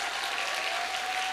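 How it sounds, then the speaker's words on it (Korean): A church congregation at a worship service gives a short, thick burst of continuous applause, loud and evenly filling the hall. "우리 소정 간사님 뜨겁게 박수로 한번 다시 한번"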